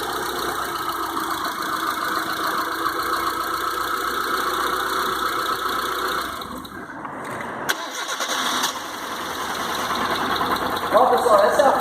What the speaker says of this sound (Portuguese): essa é a falha que o carro faz, ó. Ele pega e morre, sem o sinal do fase.